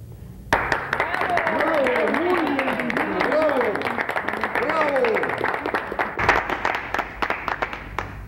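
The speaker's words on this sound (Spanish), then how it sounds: "La ovación habla por sí misma." An audience gives an ovation after a speech in a stage play, clapping that swells in suddenly and holds steady under loud cheering voices and a few whoops, thinning toward the end.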